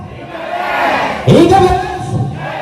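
A crowd at an IKBS gathering in Cibubur shouts a chant response together, one loud collective cry rising over a host's voice, with voices overlapping and trailing off.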